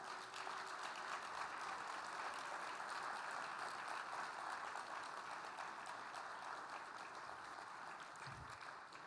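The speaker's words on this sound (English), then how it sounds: "would you give them a round of applause first?" A township meeting audience gives a round of applause, sustained dense clapping that fills the room, moderately distant and steady throughout with no talk over it.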